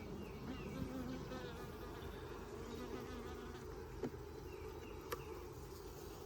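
Honey bees buzz steadily around an open hive during an inspection, a dense continuous drone close to the microphone with an occasional faint click.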